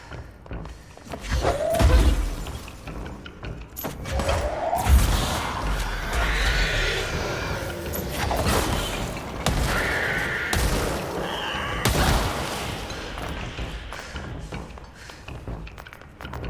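Explosions boom and thud in the Control video game, several heavy bursts and slams scattered through a dense, noisy stretch of combat with debris and mechanical clatter.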